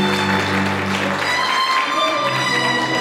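Wedding guests at a hotel ceremony applaud in a steady, dense patter that carries on throughout, layered over sustained background music.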